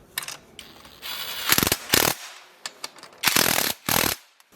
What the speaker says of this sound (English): fasten the rear brake caliper to the brake bracket with an M10 socket